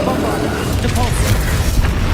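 A Bombarda explosion spell goes off in Hogwarts Legacy, a loud deep boom with rumbling low-end debris that fills the short moment, followed by lingering crackle and game effects.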